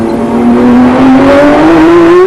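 A 1991 Nissan GT-R R32 race car engine howls close by at Bathurst, its pitch climbing steadily as it accelerates hard out of a corner, loud and continuous.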